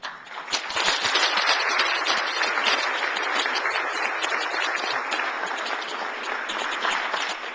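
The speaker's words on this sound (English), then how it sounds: "all of these people who just stood up and applauded" A standing audience applauds in a dense, steady wash of clapping that holds for several seconds, loud and close, with no voices over it.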